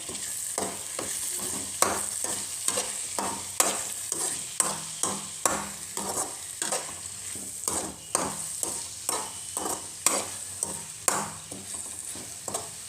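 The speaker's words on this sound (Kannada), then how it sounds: "ಚೆನ್ನಾಗಿ ಫ್ರೈ ಮಾಡೋಣ ಟೊಮೊಟೊ ಹಾಕ್ಬಿಟ್ಟು" Tomato frying in a pan for chapati rolls, a steady hiss of oil under regular spatula scrapes and taps repeating every second or so, close and moderately loud.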